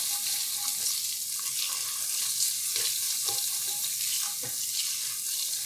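Diced onion cooking in an enameled cast iron Dutch oven, a steady close sizzle with a watery hiss throughout, punctuated by a few soft scraping taps as the pan is worked.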